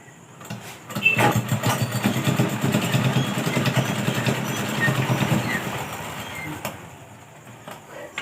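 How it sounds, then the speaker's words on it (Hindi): A sewing machine runs steadily for several seconds while stitching saree fabric folded into a lehenga waistband, giving a continuous whirring motor drone with a rapid needle rhythm that starts abruptly and then fades out, with no talk. "फोल्ड करके यहाँ पे सिलाई चला लेंगे।"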